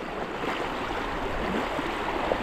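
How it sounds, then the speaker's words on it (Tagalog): Strong river current at a rocky crossing, a dense continuous rushing of water, loud and close, with no voices. "malakas ang agos"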